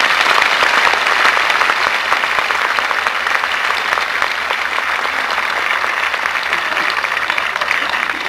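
An audience claps loudly and steadily at the Sun City 30th anniversary event, dense sustained applause filling the room without a break and fading only slightly toward the end.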